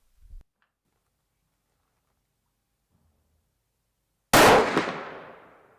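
A single sharp rifle shot from a 350 Legend or 450 Bushmaster cracks loudly after several seconds of near silence, then decays into a trailing echo.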